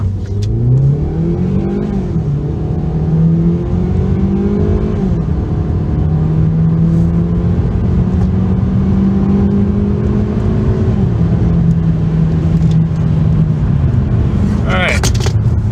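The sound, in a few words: Ford Focus car floored, accelerating and shifting through gears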